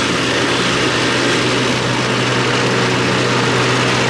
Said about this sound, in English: We are accelerating.